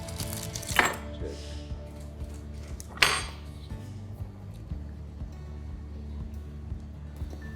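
A knife cuts slices of a baked egg, greens and cheese pie, making two distinct crisp cuts that knock against the board, one early and one midway, over a quiet kitchen background.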